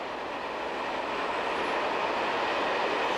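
A Swiss train hauls up the steep mountain line toward Goschenen, with locomotives at the front and rear. A loud, steady roar and rumble holds close and constant, with no voices.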